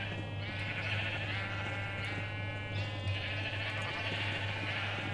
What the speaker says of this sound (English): That's just hitting the sheep.